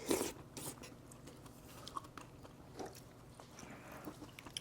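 Close, fairly quiet biting into the end piece of kimchi soondae, Korean blood sausage, with a soft squelchy bite at the start, then scattered moist chewing sounds and small clicks.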